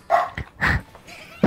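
A dog barks in short, loud bursts, several yips in quick succession, close by with some background noise, set against a gaming session.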